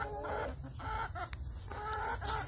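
Rooster crowing close by among a flock of clucking chickens on a backyard garden plot, calls repeating over a steady chorus of hen clucks with no talking.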